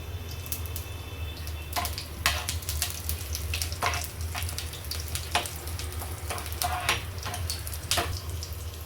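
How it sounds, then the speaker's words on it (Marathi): Cumin seeds sizzle in hot oil for aloo methi matar, a steady crackling fry over a low hum, with sharp spatters and stir clicks popping up throughout. "थोडंसं जिरं टाकते."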